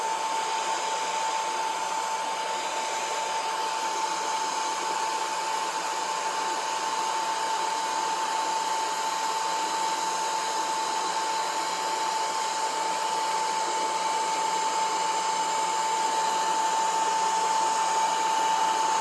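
Heat gun or hair dryer blowing steadily on a wood grain dash accent for a Triumph Spitfire, a constant loud whirring hiss with a fixed whine that runs unbroken throughout, with no talking.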